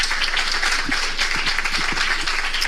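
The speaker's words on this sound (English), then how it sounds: "Can we make that round of applause more?" Steady applause from an audience at a Harvard presentation, even dense clapping that holds throughout at a fairly loud, close level with no talking.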